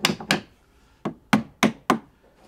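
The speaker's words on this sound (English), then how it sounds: "take a couple of wedges here and tap that in place" Wooden wedges are tapped into place on a roof framing job beside a window, six sharp, close knocks in two quick groups, each a hard wooden strike with no talk.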